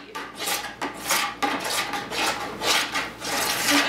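A plastic scraper pulled firmly across a snowboard base, stripping off excess dried wax in repeated close, rasping strokes of steady rhythm, with no talking.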